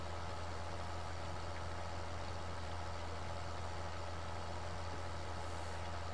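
A tractor engine pulling a power harrow in Farming Simulator 2013 drones at a steady, constant low hum with no variation, without talk.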